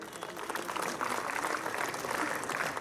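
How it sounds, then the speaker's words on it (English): An audience at the inauguration of a science and engineering fair applauds, a dense, steady wash of many hands clapping that carries evenly through the moment. "Let all of us give a big round of applause for our honorable guests and valued sponsors."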